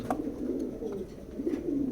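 Grizzle pigeons coo in soft, low, rolling calls close by, one after another.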